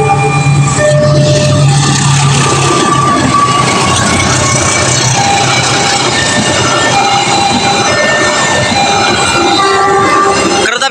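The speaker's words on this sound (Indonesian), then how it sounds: "Kereta api Kertajaya dengan tujuan stasiun Pasar Senen sudah melintas di stasiun Cikarang" Kertajaya passenger train, fourteen premium carriages, running through Cikarang station toward Pasar Senen: continuous loud rumble and clatter of wheels on rails, with squealing tones, steady for the whole span.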